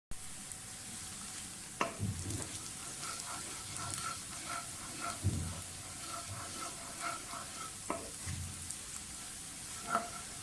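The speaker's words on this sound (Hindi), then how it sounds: "प्याज को थोड़ा सुर्ख करना है हमने, जैसे प्याज फ्राई करते हैं बिल्कुल वैसे" Onions sizzle and fry in oil for zeera rice. A steady, quiet hiss runs throughout, with occasional soft stirring knocks and no voices.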